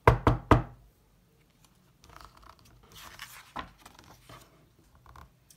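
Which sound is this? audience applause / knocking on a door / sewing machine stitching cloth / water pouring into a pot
knocking on a door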